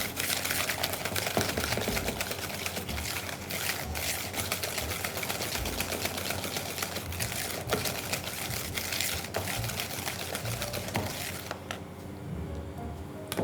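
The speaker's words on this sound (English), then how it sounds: "I'm going to start mixing all my ingredients together." Ingredients are mixed together to dissolve sugar for doughnuts, producing a dense, continuous rattling and scraping clatter that goes on steadily and close up, then eases near the end.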